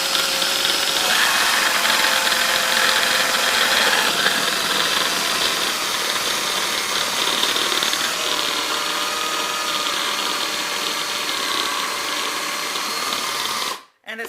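A food processor grinds Oreo cookies for cake pops, running as a loud, steady motor whir with a strained, labouring tone for about fourteen seconds before cutting off abruptly near the end.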